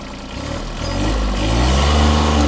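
A Kubota GB-13 Japanese mini tractor's three-cylinder engine revs up from a low idle, its steady mechanical rumble rising in pitch and loudness over a couple of seconds, heard alone.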